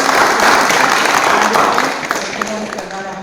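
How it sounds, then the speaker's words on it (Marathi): A crowd applauds at a birthday-celebration gathering in Savargaon, a dense, steady wash of clapping that stays loud and then thins slightly toward the end, with voices mixed underneath. "त्यांच्यासाठी जोरदार टाळ्या वाजवा"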